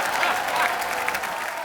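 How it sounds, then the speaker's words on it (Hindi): A studio audience claps at a televised comedy game show, a thick continuous burst of many hands at even loudness throughout the short stretch. "तालियां"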